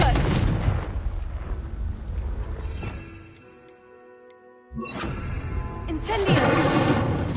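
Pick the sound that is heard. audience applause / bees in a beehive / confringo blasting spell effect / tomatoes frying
confringo blasting spell effect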